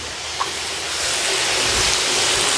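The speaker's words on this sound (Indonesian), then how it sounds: "Ini dibilas dengan air bertekanan dari tandon atau dari pompa yang lumayan kenceng." Pressurized water from a pump sprays steadily over a carpet during a rinse, a loud, continuous broadband hiss and rush with no break.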